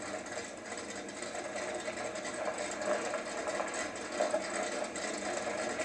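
Motorcycle engine in the No More Heroes 2 game, a steady buzzing mid-pitched drone that hums on without pause at moderate loudness, with no talking.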